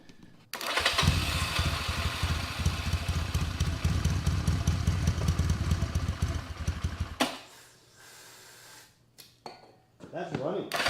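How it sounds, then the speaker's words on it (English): A vintage motorcycle, started with a squirt of starting fluid, idles loudly and unevenly with a clattering rhythm for about seven seconds, then dies away, leaving quieter handling noises. "That was idling. Thing started up with this little squirt of starting fluid and it idled."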